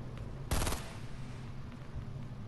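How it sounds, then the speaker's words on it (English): A short, loud burst of rapid gunfire in Fortnite, several quick shots packed into about a quarter second, followed by quieter background game ambience. "they're shooting at someone else on this sneak"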